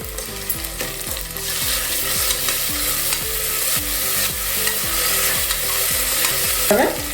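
Sliced onion and ginger-garlic paste frying and being stirred in a pan for a spicy mutton bone soup, a loud steady sizzle under rhythmic music, with a scrape near the end.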